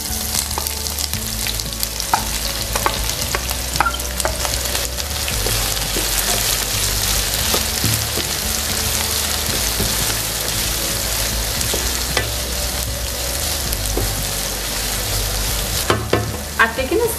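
Finely sliced onions sizzle steadily in hot oil in a pan, a dense close crackle that holds through the whole stretch, with occasional knocks of stirring and a louder burst near the end.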